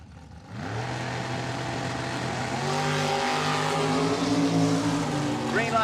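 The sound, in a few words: 67 Camaro funny car drag racing engine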